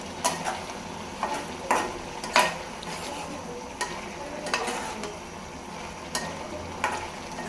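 Fish curry with its spice masala is stirred and fried in a pot, a low sizzle underneath regular sharp spoon taps and scrapes against the vessel at intervals of about a second.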